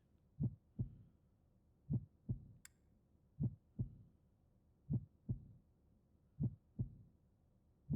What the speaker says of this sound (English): Wow, listen to that heartbeat.